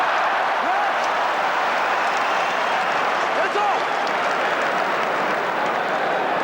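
A rugby stadium crowd at a Barbarians match against the Springboks roars continuously, a dense, sustained wash of cheering with some clapping mixed in, loud and unbroken for several seconds.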